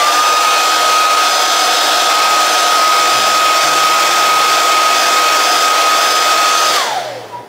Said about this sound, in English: Let me get the hair dryer here.